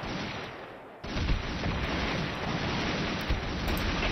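A tank fires in the Army Men RTS video game, a sudden loud blast followed by a sustained, noisy roar of rumbling explosion and battle noise lasting several seconds.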